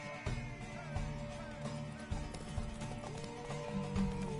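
Horse hooves clip-clop in a steady, uneven rhythm at moderate distance, mixed with game music and background sounds and with no clear talking.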